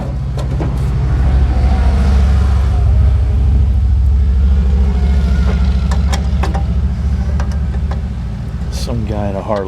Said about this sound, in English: Some guy in a Harley just drove by.